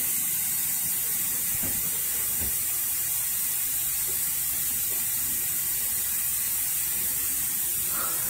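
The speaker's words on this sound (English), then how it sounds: "So now we got the fluid bleeding." Brake fluid is bled from the brakes of a 1984 Porsche 944 NA, making a steady, close hissing spray that runs without a break, with only faint low knocks underneath and no voices.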